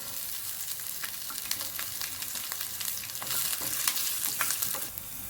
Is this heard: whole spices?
yes